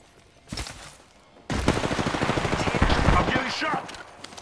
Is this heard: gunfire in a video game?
yes